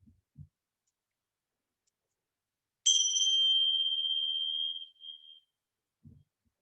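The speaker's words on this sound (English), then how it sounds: "So we will begin with the bell." A single bell is struck to open a restorative yoga session, ringing out as one clear, bright tone that sustains for about two seconds and fades in an otherwise quiet room.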